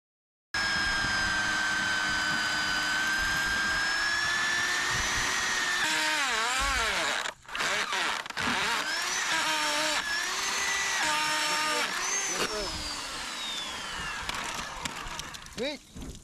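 Core drill fitted with a 2-inch bit cutting during installation of yard drainage sump pumps, a loud steady whine lasting most of the time, pitch dipping and wavering as the bit bites, with a brief cutoff midway.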